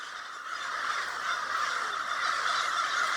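A large flock of crows caws continuously at dawn, many overlapping harsh calls forming a dense, steady din with no voices.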